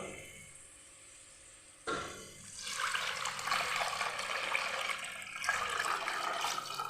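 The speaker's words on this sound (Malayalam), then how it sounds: "അഞ്ച് ഗ്ലാസ് വെള്ളം ഇതിലോട്ട് നമ്മൾ ഒഴിക്കുക" Five glasses of water pour into a pot for Kerala-style coconut rice, a steady splashing gush that starts abruptly after a quiet moment and runs loudly to the end.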